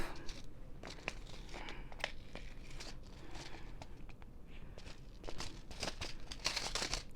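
Scissors snip and tape crinkles and tears off a container of dirt in a series of close, irregular clicks and rustles, with no talking.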